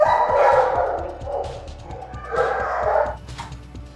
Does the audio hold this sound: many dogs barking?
yes